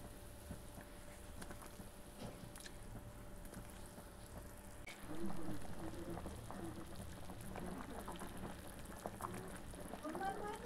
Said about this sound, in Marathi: अशी दणदणीत उकळी येऊ द्यायची